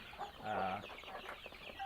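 A newborn chick, blind in both eyes, makes soft chirps and clucking peeps; the calls come close and fairly quiet, clustered near the middle of the moment with faint background noise.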